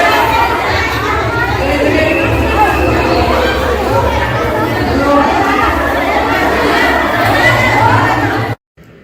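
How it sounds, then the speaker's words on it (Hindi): Dense crowd of devotees gathered at a Lord Bholenath temple, steady close chatter and babble of many voices with children among them, continuous and loud before cutting off abruptly. "किस तरह से भगवान भोलेनाथ के दरबार में भक्तों की भीड़ हो रही"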